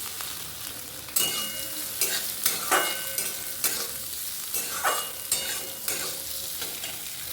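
Moong dal frying in a pan in a home kitchen, a soft continuous sizzle broken by periodic scraping strokes of a spatula stirring, close and steady with no talk.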